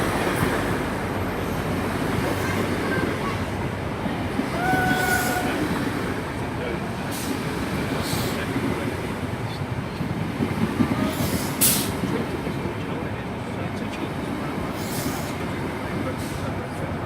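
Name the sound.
HST diesel passenger train passing, power car 43088 at front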